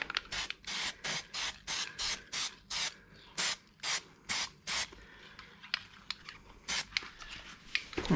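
A liquid is sprayed onto car parts for an E-brake system on a chopped 1951 Chevy, in about a dozen short even hisses, steady at first, then sparser and softer, heard close with no talk.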